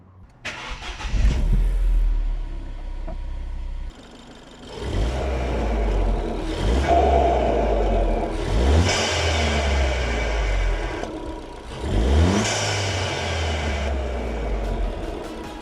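A car's engine cranks and fires up after a new induction system install, then revs in several rising bursts over a rough idle, close and loud with no talk.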